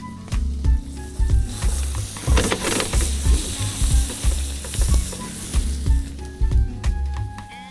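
Seasoned, floured chicken searing in a very hot pan, a loud crackling sizzle with rhythmic scraping and stirring bursts, close up and without speech.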